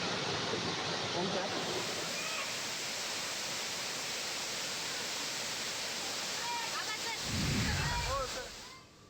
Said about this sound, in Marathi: धाराशिव जिल्ह्यातील येडशीमध्ये रामलिंग धबधबा ओसंडून वाहतोय